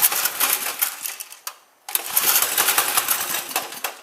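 A cheap go-kart's small engine starts from cold with the choke on, rattling loud and close, briefly dropping out before catching again and running rough and fast.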